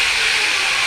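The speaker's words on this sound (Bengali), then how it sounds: "দেখো এইখানে এবার দিয়ে দেবো তেলের উপরে গোটা জিরে আর তেজপাতা" Whole cumin seeds and bay leaves sizzle in hot oil, a steady, dense crackling hiss that stays even and fairly loud throughout the brief moment, with no voices.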